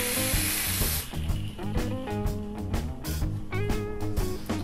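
Airflow hisses through an Augvape Astro RDA with a chuff cap and its airflow fully open: a steady, fairly loud rush of air for about a second, then music continues underneath.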